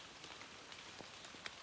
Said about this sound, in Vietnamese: Ở chỗ mình thì chỗ trên đồi nó mưa phùn đấy các bạn ạ